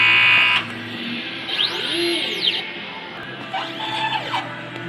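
An inkjet printer runs a nozzle check after a head clean and wiper wipe, giving a steady mechanical hum with repeated rising-and-falling whirring sweeps from the moving print head. There is no talk.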